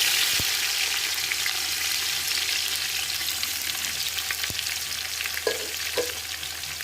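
About a kilo of onions sautéing in a pan, a dense continuous sizzle held throughout, with a few sharp ladle taps and stirring knocks near the end, close and with no talking.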